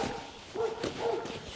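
A dog barks a few times at a riding stable, the short woofs rising over faint background sounds near a pony.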